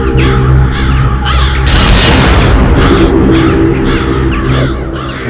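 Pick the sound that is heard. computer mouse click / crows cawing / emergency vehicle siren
crows cawing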